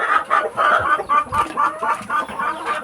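Rhode Island chickens on a rural farm cluck repeatedly in a quick, steady rhythm, close and fairly loud, several birds overlapping, with no talking.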